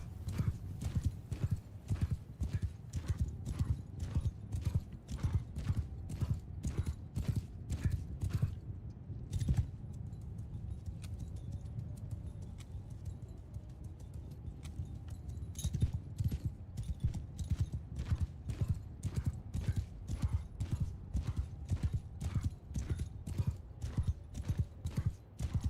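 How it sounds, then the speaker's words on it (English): Horses gallop through snow in the video game Mount and Blade 2: Bannerlord, sending out loud, rapid rhythmic hoofbeats with a few whinnies and creaks. The pounding drops away briefly near the middle and then resumes. "you can really feel the effects of snow on a horse's speed"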